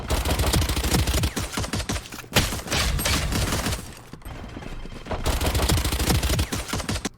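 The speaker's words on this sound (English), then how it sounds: "We hear a bunch of gunfight going on right here." Video game gunfight with rapid bursts of automatic gunfire, dense repeated shots in several long volleys separated by short pauses, loud and continuous with no speech.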